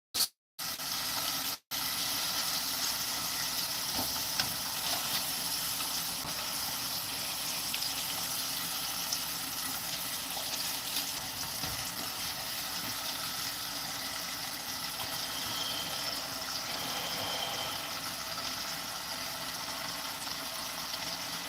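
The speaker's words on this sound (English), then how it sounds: "The sizzle is pretty loud on these steaks." Steaks sizzling loudly in a hot pan, a steady dense hiss and crackle running unbroken from start to finish with no talk over it.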